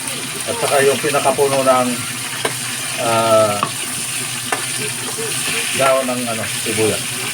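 Lemongrass, garlic and onion sizzle steadily in hot oil in a home kitchen, a continuous frying hiss with occasional utensil clinks, while a person talks over it throughout.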